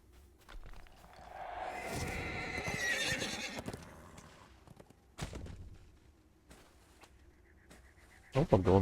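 A horse in the Dungeons and Dragons Online video game gives a loud, drawn-out whinny, followed by scattered hoof clops and footsteps that fade to quieter movement with a sharper burst near the end.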